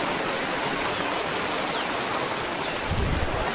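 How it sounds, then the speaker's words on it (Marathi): Heavy rain pours down during a Jayanti celebration in a dense, continuous roar, loud and steady throughout, with a low rumble swelling near the end. "मोठं खतरनाक पाऊस पडता बघा"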